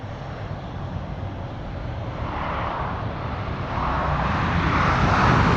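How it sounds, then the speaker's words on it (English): Air Dolomiti passenger jet out of Frankfurt beginning its takeoff at London City Airport, a broad steady engine roar heard from a distance that gradually swells louder, with no talk. "it sounds like a plane is getting ready to take off here"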